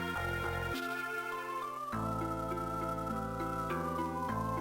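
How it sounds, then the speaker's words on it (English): The Windrake sound from the Final Fantasy 5 video game, a dense, steady run of synthesized tones with shifting layered chords and no pauses, moderately loud. "Here's the sound of a Windrake."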